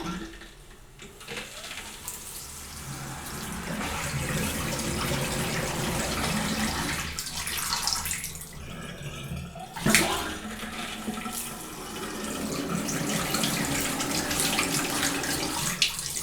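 Water runs from a newly installed faucet on a Glacier Bay pearl gray cultured marble bathroom vanity, a steady close splashing stream that briefly sputters with air before flowing evenly again.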